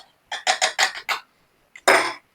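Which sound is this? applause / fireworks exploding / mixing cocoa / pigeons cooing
mixing cocoa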